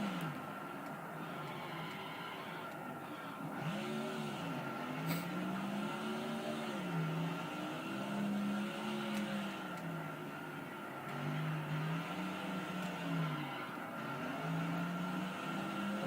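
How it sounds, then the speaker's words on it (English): Race cars in NASCAR Thunder 2004 on the Infineon road course drone steadily with engine pitch rising and falling through corners, tires sliding as the revs warble continuously and fairly loudly. "The tires are sliding all over the place."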